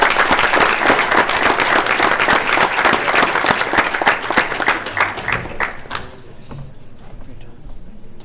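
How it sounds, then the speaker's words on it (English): A crowd at a school board meeting claps loudly and steadily for several seconds, with voices mixed in, then the clapping thins out and fades to a quieter murmur. "if you can join me in a round of applause for Matt"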